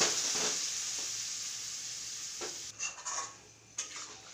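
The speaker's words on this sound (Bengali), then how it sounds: "এবারে এর মধ্যে পেস্টের বাটি ধোয়া জলটা ঢেলে দিলাম।" Steady sizzle of vegetarian curry frying in a pan, with water from rinsing the spice-paste bowl poured in, then a few clinks and scrapes of a spoon stirring near the end; no talking.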